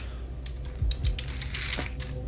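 Computer keyboard typing: a quick run of crisp, close key clicks with a couple of heavier thumps of keys or the desk, and no talking.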